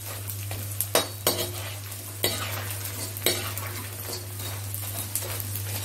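Edible gum (gond) frying in a pan for whole wheat and makhana panjiri, with a continuous sizzle, a steady low hum, and repeated sharp spatula taps and scrapes against the pan, close and without voices.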